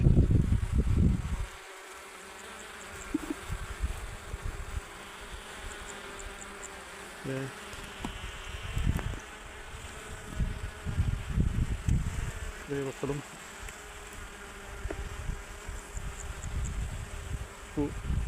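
Honeybees swarming around hives during an inspection of colonies working on heather, a dense continuous buzzing close by, with handling clunks from the boxes and occasional low wind rumble.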